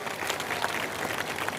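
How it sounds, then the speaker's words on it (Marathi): Crowd applause welcoming guest Jaykumar at a political gathering, a fairly faint, continuous wash of many hands clapping with no talk over it. "जयकुमार भाऊंचं हार्दिक स्वागत सगळ्यांनी टाळ्या गजरात करावं"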